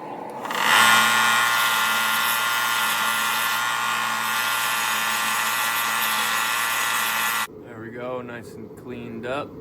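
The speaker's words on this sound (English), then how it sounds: "I'm gonna go take this to my belt grinder and just clean this up" A belt grinder cleans burrs off a forged steel holdfast with a loud, steady high-pitched whine for about seven seconds. It then cuts off abruptly, and a voice speaks close by.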